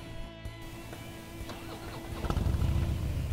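A 2016 Harley-Davidson Softail Slim is started up, faint at first, then settling into a low, lumpy rumble that grows louder toward the end.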